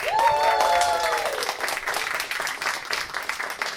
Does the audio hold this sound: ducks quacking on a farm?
no